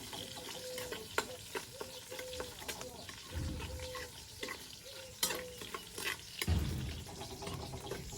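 Oil sizzles in a pot over an outdoor village campfire while plov is being cooked, a steady hiss broken by clanks and stirring knocks, with some background voices and faint bustle.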